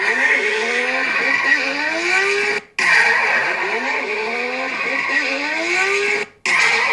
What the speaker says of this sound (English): But I recorded that engine.